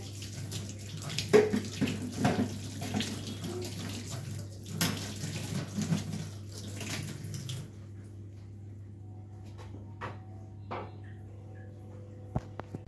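Tap water runs steadily while gas stove parts are rinsed one by one in a kitchen sink, with splashing and light clatter, then the flow quiets and a few clinks follow.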